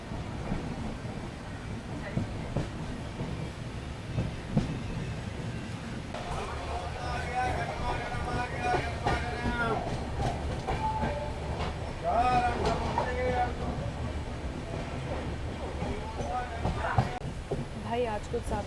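The Goa Express rolls out of Madgaon station, a steady rumble of wheels and carriages with faint clickety-clack and rattling, heard from inside the coach while someone talks over it.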